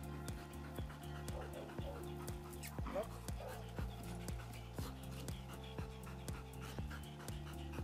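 Aika, a dog in training, pants steadily and rhythmically close by, with clicking hoof-like or footstep sounds and a voice speaking briefly over it.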